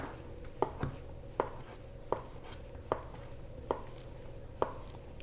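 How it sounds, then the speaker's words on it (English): A knife dices a block of provolone cheese into small chunks, each cut landing as a sharp, close knock in a steady rhythm, about seven chops spaced under a second apart, with no voices. "cut it in strips, and then turn it and cut those strips into dices."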